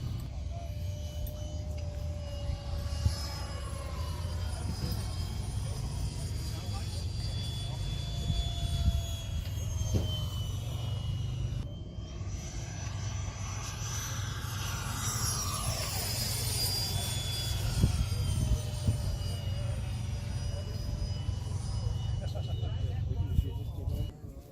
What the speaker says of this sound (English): This is Tyler's jet that we saw underneath the table